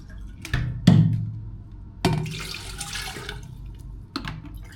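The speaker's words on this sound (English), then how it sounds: "You can use it and put water in the bottle." Water poured into a bottle, heard as a few sharp, close splashes and gurgling bursts spread over several seconds with pauses between them.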